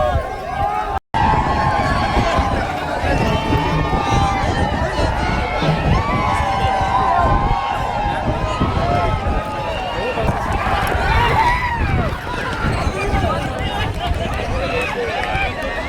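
Large crowd at a bullock cart race event in Maharashtra, a dense roar of many voices shouting and cheering nearby, swelling and falling over the whole stretch.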